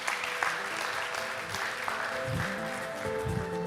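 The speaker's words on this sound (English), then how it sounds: "Let's give her a round of applause." Steady applause from a conference audience at a GovTech leaders event welcomes an opening speaker, sustained and moderately loud throughout, with faint voices underneath.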